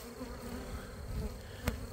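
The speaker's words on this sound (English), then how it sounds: "Like your bees. Swarm season." Dense buzzing of many swarming honeybees around hives in swarm season fills the air, a steady low drone with one insect briefly passing close.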